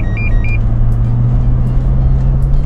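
A car sets off on a road trip with a brief electronic beep at the start, followed by a steady low engine and road hum from inside the cabin.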